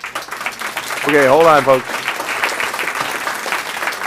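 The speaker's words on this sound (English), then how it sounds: "We'll allow applause for the elected officials" Audience clapping for elected officials at a public hearing on a light rail environmental impact statement, a crowd's applause running under someone talking briefly into a microphone.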